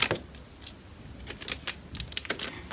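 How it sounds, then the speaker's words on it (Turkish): A toy typewriter is handled up close, giving scattered light clicks and taps that bunch into a quick run of sharp key-like strikes toward the end, with no talking. "İlk olarak bu şekilde bir daktiliniz var."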